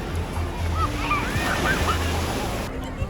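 Ocean surf rolls onto a sunny beach near Jogja, Indonesia, in a steady loud wash mixed with wind buffeting the microphone.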